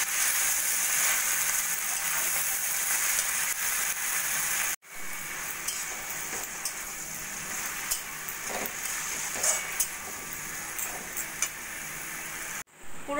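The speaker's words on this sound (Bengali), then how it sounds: "সজনে শাক দিয়ে ভালো করে আলুর সঙ্গে মিশিয়ে নেব।" Drumstick leaves stirred into fried potatoes in a pan, giving a steady close sizzle with light scraping and stirring, briefly cut off twice.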